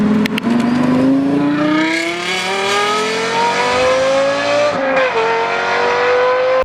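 A Lexus LFA's 4.8-liter naturally aspirated V10 revs loud and close. Its pitch climbs steadily in a sustained howl, dips briefly, then holds high, with no voices.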